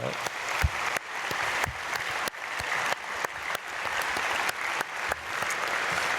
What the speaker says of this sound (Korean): 크게 박수해 주시길 바랍니다.